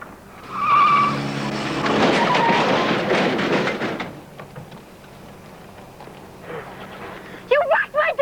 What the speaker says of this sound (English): You wrecked my dad's car!